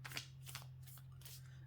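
Quiet, brief riffling of oracle cards being shuffled in a few soft bursts over a steady low hum.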